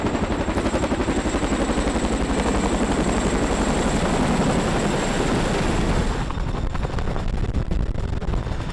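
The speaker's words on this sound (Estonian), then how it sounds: "nüüd sattusin peale õppuse käigus toimunud helikopteri dessandile" A military helicopter roars during a troop landing exercise, its rotor beating in a loud, continuous rapid chop, close and steady, then easing slightly toward the end.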